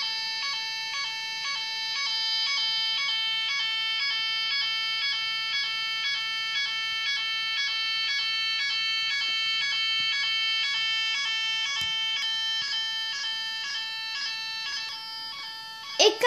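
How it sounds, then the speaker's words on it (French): A fire alarm rings steadily and loudly, a repeating electronic bell-like tone pattern holding unbroken for about sixteen seconds before a brief clatter at the very end. "quand cette alarme célèbre est allumée, déclenchée, il faut le plus vite possible sortir de l'établissement"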